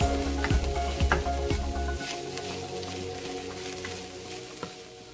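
Vegan ground meat substitute browns in a pan, sizzling steadily while a utensil scrapes and stirs in a few distinct strokes, the frying hiss fading slightly toward the end.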